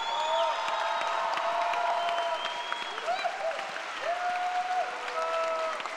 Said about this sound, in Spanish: Un aplauso grande para el coro gay Ciudad de México